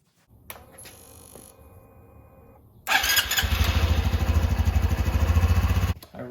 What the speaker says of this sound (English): start the bike and run it for 3 minutes